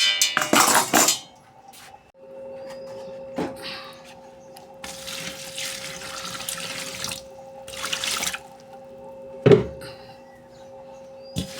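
Fenugreek leaves are swished and rinsed in water in a vessel, with splashing bursts, running water and clinks of metal dishes, close by, with a faint steady tone underneath and no voices.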